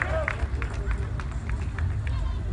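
Crowd of supporters cheering loudly for the Rotech team at an Autokorper competition, a steady roar of many voices with scattered shouts and whistles throughout.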